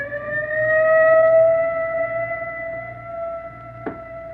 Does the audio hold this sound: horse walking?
no